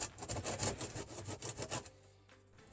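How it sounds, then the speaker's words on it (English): A hand saw rasps through a cardboard model railway scenery piece in quick back-and-forth strokes, steady and close, then stops, leaving a few faint knocks. "Even using a saw, I'm having problems with it."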